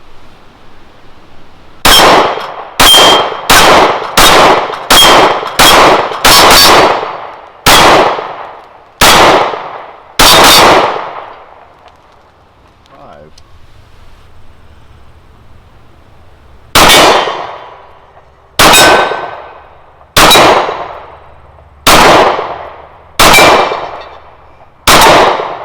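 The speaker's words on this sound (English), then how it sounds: "We're going to see if it'll ring some steel." Stoeger STR-9 pistol shots striking steel targets at 15 to 25 yards: a quick string of about ten loud, sharp clangs with ringing decay, a quiet pause, then six more evenly spaced hits, no voices.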